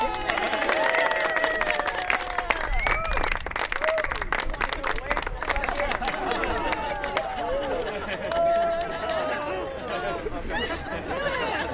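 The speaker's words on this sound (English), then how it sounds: "Everybody applaud it!" A crowd at a joinery workshop bursts into sustained applause, with dense clapping mixed with lively chatter and children's excited voices all around.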